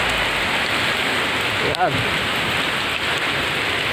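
Heavy, steady rain pours down during Typhoon Ulysses in San Fernando, Laur, Nueva Ecija, with strong wind, a constant loud hiss throughout and a brief spoken word over it.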